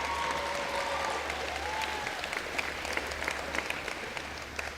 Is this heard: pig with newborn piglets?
no